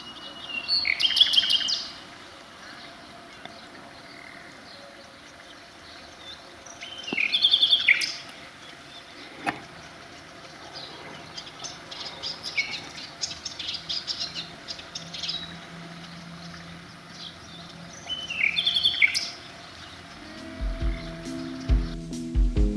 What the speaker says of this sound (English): one of the most beautiful sounding birds has got to be the nightingale